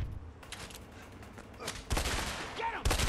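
Bursts of gunfire ring out in the video game A Way Out, coming as several rapid volleys over a steady background rumble, with the loudest shots near the end.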